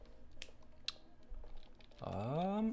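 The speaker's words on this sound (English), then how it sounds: "I can now bring down my keyboard" Computer keyboard typing, with light, irregular clicks tapping away close by at a desk, before a louder tonal sound takes over at the end.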